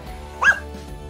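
A single short dog bark or yip, close and brief, rising over a steady background hum.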